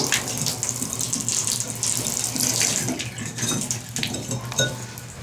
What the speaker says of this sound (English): we're going to open a faucet that's at a lower point to help drain